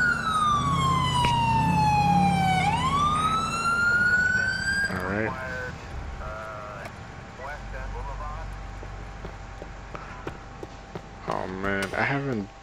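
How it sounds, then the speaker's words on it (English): A police car siren in GTA IV with the LCPDFR mod wails loudly for several seconds, sweeping down and back up before cutting off, after which engine noise, short yelps and a voice continue. "I used to use my siren a lot"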